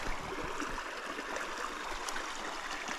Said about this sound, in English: It's a beautiful stream. Little creek thing flowing on by.